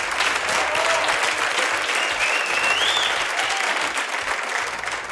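A studio audience on a Spanish music game show bursts into loud, sustained applause that fills the room and holds steady throughout, with a few faint voices and whistles mixed into the clapping.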